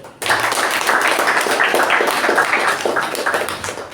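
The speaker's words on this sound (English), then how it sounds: "A huge round of applause for our evaluator and our speaker" Audience at a Toastmasters club meeting bursting into dense, steady applause, many hands clapping close and loud from the start and sustained evenly to the end.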